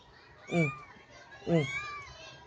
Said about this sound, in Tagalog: Dalawang kuting talaga yan oh.